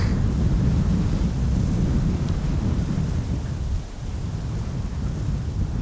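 Steady wind at an airport roaring into the microphone, a constant loud low rumble with slight dips and no other distinct sounds.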